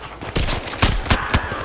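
Rapid gunfire in the VR shooter Zero Caliber, several sharp, loud shots in quick succession over a continuous noisy game background.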